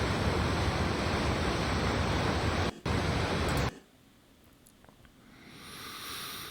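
Linville Falls waterfall on the Blue Ridge pours over a sheer rock face, a loud steady roar of rushing water for about four seconds, then dropping abruptly to a much fainter, distant wash.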